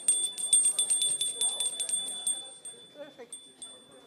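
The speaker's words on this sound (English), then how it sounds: "There's a bell." A small bell rings repeatedly in quick, bright strikes that signal the end of a break at a colloquium, then thins out to a few sparse chimes as faint voices murmur underneath.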